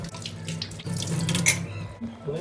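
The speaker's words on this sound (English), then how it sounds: "Washing of hand, very crucial. With soap nicely for 1 minute." Running tap water pours steadily into a sink during handwashing with soap, a continuous splashing stream close by with no talking.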